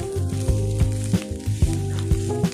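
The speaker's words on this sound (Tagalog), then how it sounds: "magluluto na ako ng aking paboritong almusal. Itlog at saka sinangag." Eggs and garlic fried rice sizzle in a pan with a steady, close frying hiss and faint periodic scraping ticks, heard over a continuous low hum.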